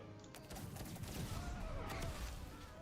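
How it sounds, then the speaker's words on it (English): Cannon fire with explosive shells in a Napoleonic Wars video game, a dense continuous barrage of booming shots and crackling gunfire rolling on without pause. "This cannon right here, hit them. And use explosive shell when you do it."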